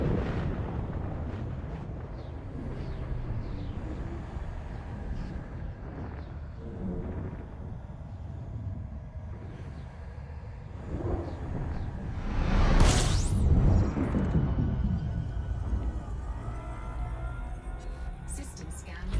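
A spaceship's hyperspace jump to a T-class star in a space video game: a low rumbling drone builds into a loud whooshing surge, then eases back to a steady engine hum.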